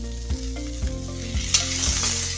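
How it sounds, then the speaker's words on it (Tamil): Onions fry in a pan with salt and spice powder for a hotel-style chicken starter, giving a steady, close sizzle with a few soft stirring bumps and no talking. "இப்போ ஃப்ரை பண்ணிக்கலாம்"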